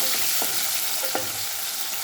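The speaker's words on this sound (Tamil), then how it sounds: "கிண்டி விட்டுக்கலாம்." Fenugreek seeds, two tomatoes and five or six small onions sizzle steadily in a pan while being stirred, with a few soft scraping strokes over a continuous close, broadband frying hiss and no talking.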